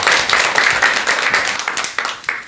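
A room of listeners claps loudly for a lecturer about to speak, the rapid overlapping claps close and dense, tapering a little near the end with no voices.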